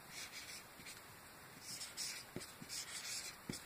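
A pen drawing on paper, quiet close scratching strokes in short irregular bursts over faint background hiss.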